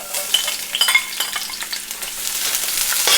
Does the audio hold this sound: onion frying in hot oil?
yes